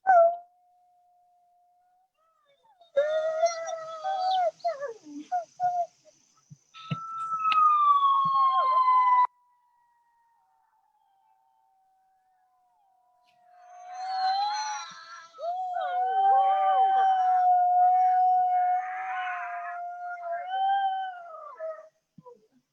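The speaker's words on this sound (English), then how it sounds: "in the meantime, we can just enjoy these howls" Wolves at a wolf conservation center howl in long, sustained tones, first a few overlapping voices, then a pause, then a fuller chorus of several animals rising and holding for several seconds; no talking over them.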